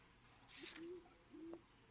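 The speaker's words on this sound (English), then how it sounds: "I think it's just a bird outside on the game." A bird calls outside in the LA Noire video game, giving two soft, low hooting notes over a quiet background, with no talk.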